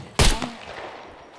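A single loud gunshot from the survival video game SCUM cracks sharply and close, then fades into a short reverberant tail.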